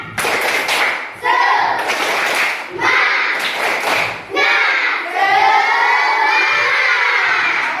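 A classroom of schoolchildren performs the rhythmic tepuk semangat spirit clap, loud bursts of patterned clapping alternating with shouted chanting voices in a repeating cycle.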